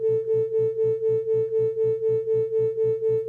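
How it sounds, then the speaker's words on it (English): A beat frequency between two tones: a steady pure tone that swells and fades in regular pulses, about four throbs per second, loud and alone. "that's example of a beat frequency"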